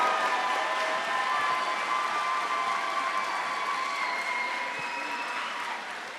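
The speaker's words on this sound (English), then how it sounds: "How about a final round of applause for our 2026 8th graders?" A crowd at an 8th grade celebration claps in sustained, dense applause that holds steady before easing slightly at the end, with faint cheering mixed in.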